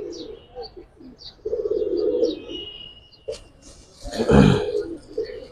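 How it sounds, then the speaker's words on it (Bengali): A female pigeon coos in soft, low, drawn-out phrases at close range, with voices speaking around it. "এটা মাদি কবুতর"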